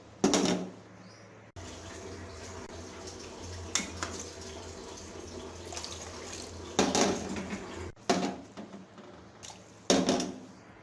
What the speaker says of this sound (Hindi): अभी हम इसके अंदर पानी ऐड कर देते हैं।